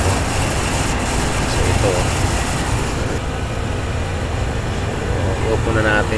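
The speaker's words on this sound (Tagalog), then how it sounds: "Maingay na condenser fan motor." Noisy HVAC condenser fan motor with dry bearings, a steady mechanical whir and hum running throughout, with someone talking briefly over it.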